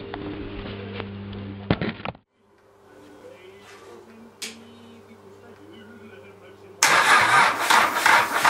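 A Mazda diesel engine is cold-started in freezing weather with starting spray: a close cranking whir for about two seconds, a quiet stretch with voices, then a loud roar as the engine catches.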